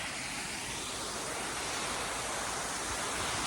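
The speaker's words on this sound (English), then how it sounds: "Now that waterfall slows to a trickle when it's not raining" A small waterfall pours into a burn, making a steady, loud, broadband rush of falling water that holds evenly with no pauses and no voices.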